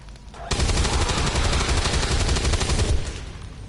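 A rapid burst of automatic gunfire from XCOM 2: War of the Chosen erupts after a short quiet lead-in, with dense continuous shots rattling loudly for a few seconds and then fading out.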